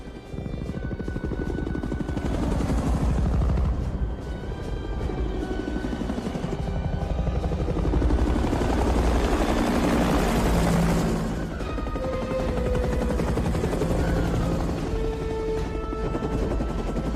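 A helicopter gunship flies low over the ground, its loud rotor thrum swelling and receding under tense film score with a few booms.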